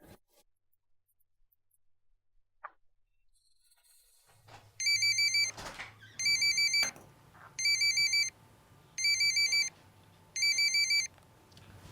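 A telephone ringtone rings five times in even, patterned bursts, loud and close over a low room hum, with no talk during the rings.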